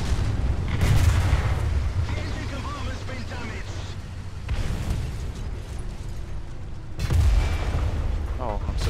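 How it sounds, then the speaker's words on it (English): An artillery strike in the video game War Thunder, with several heavy booming blasts over a steady rumble of battle noise and a voice talking throughout. "We need artillery support. Roger that. Artillery, fire."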